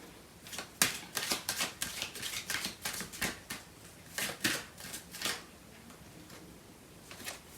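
Tarot cards being shuffled in a string of crisp, riffling bursts that come in quick irregular rhythm, close and fairly quiet, with no voices.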